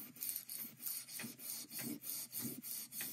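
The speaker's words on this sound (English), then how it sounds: "And then you want to take your steel wool and lightly rub." Steel wool rubbed lightly across a laser print laid on a gel printing plate, giving a steady run of soft, rhythmic scratchy strokes about every third of a second, close and fairly quiet.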